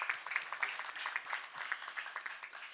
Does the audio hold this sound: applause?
yes